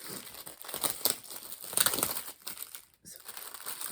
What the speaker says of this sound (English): Warning you with as much crinkling as I can.